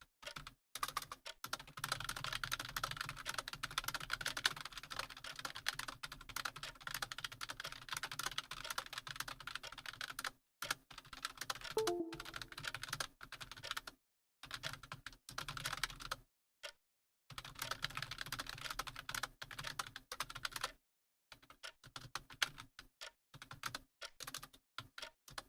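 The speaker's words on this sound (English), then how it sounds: "Sorry, just had to return and, you know, type that email very quickly." Office worker typing an email on a computer keyboard, a steady stream of rapid, close key clicks that runs for long stretches and breaks off in several short pauses.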